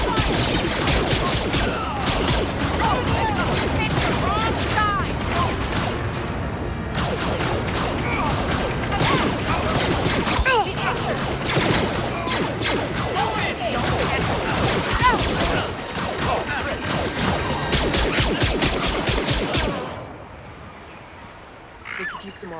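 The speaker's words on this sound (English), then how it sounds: "More stormtroopers coming! Don't let them through! Over here! Huh. Open fire!" Stormtroopers open fire in the Star Wars Outlaws video game: a dense, sustained barrage of blaster shots and impacts rattles on for about twenty seconds, then drops off abruptly to near quiet, with shouted voices mixed into the din.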